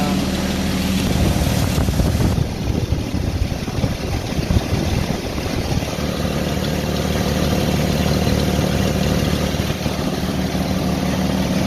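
A car engine idles with the A/C compressor clutch engaged, a steady mid-pitched drone and hum holding evenly throughout with a brief rougher patch early on and no talk.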